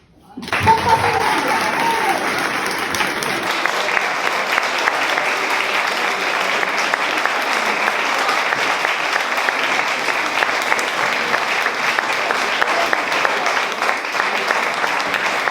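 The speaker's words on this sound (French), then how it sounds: "Un tonnerre d'applaudissements." A talent show audience breaks into sustained applause, dense clapping from a large crowd that swells within the first second and holds steadily loud for the rest.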